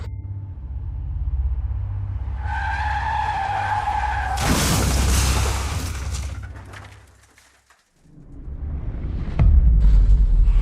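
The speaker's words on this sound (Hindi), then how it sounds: "और गाड़ी पास के ही आते हुए एक ट्रक से जा टकराई।" A car's tyres screech in a long skid before a loud crash into a truck, then a moment of near-silence and a heavy rumble, staged as a dramatic sound effect.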